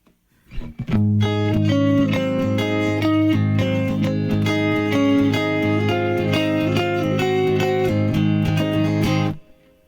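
A loud, distorted electric guitar through a BOSS eBand JS-10 with delay off, playing a sustained riff with dry, clean note endings, running steadily for several seconds before stopping abruptly.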